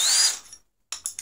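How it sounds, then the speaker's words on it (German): A drill bit drops into the chuck of a cordless drill: a bright metallic ring that fades to silence, then three quick clicking taps as the chuck is handled. "Normalerweise Bohrer in den Akkuschrauber."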